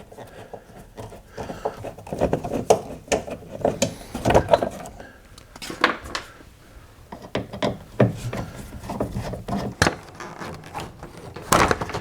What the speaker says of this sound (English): we have at least 2 more Phillips head screws. So let's get these out of the way.